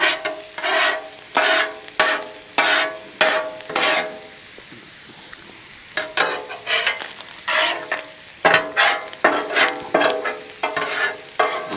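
Cheesesteak meat sizzles on a Blackstone 28-inch folding-leg griddle, steady frying hiss broken by rhythmic metal spatula scrapes and stirring strokes, close and loud, with a quieter pause midway and no talk.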